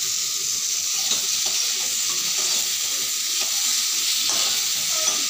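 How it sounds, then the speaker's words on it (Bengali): Sugar caramel is stirred in a hot pan, a loud continuous sizzle and hiss with soft repeated scraping strokes underneath, close and steady throughout with no voices. "চিনিটা দেওয়ার পরে এইভাবে করে কিছু সময় নাড়তে থাকতে হবে, কারণ না হলে ক্যারামেলটা পুড়ে যাবে"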